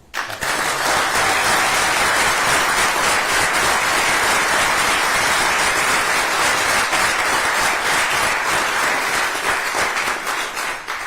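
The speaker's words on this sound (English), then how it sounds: "put their hands together for the biggest hand clap you can for our president" Large audience applauding for the organization's president, a dense sustained roar of many hands clapping, loud and even from start to finish with no voices over it.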